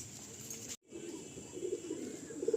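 Pigeons on a rooftop loft coo softly in a low, murmuring run of calls, growing slightly louder toward the end over a steady background hiss, with a brief dropout near the start.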